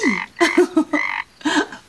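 A voice imitates a small frog, giving four short, throaty croaks in quick succession, close and clear with short gaps between them.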